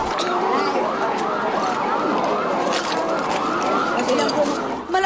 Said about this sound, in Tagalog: Malayo pa lang, dinig na ang alingaw-ngaw ng sirena ng mga bomberong rumesponde sa sunog